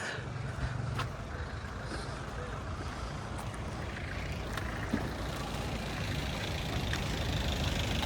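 A shuttle vehicle passes through the main gate of a shrine in Iraq, a steady low engine rumble with faint beeps and crowd murmur, moderately close and continuous without clear speech.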